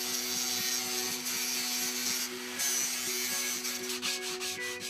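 Steady rasping and rubbing of sanding on a carved wooden Buddha statue in a woodcarving workshop, loud and continuous, with a brief harsher scraping burst midway and no talking.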